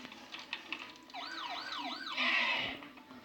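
A wailing ambulance siren from a video game sweeps up and down in a steady rising-and-falling pattern, moderately loud and close, joined by a brighter burst of game noise near the end.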